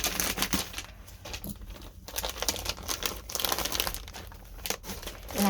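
A crinkly gift package from a giveaway crackles and rustles continuously as it is cut open with scissors, close up and fairly quiet, with a few sharper crinkling bursts.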